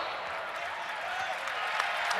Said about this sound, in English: And Michael Jordan is hearing it from this capacity crowd.